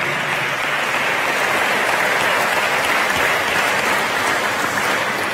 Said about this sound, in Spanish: Fuerte aplauso también de parte Aruba